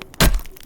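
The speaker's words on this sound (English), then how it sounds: "you just press T and it will bang the metal into submission over the fire" One hammer blow strikes metal being worked over a fire in the video game Survive The Wild, a short, sharp thunk that quickly fades into faint background noise.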